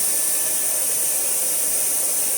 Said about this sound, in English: we'll put it on cool so it doesn't blow out hot air.